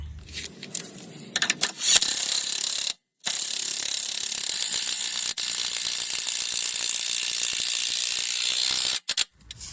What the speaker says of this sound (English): We're just gonna connect that last bolt all the way down there and put this cover on that's right here on the side